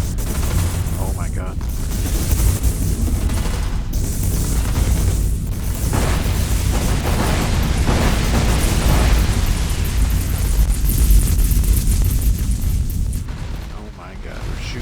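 Spaceship weapons fire and explosions in the space strategy game Sins of a Solar Empire 2: a loud, constant roar of blasts, booms and rapid shots, with brief game voice lines and an exclaiming voice over the battle.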